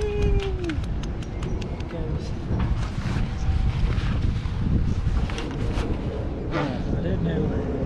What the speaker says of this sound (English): But it's too windy.